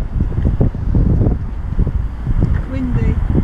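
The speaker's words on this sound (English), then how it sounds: "Very windy." Wind gusts at a caravan and motorhome club site in York, a close, rumbling roar against the microphone under a person's talk.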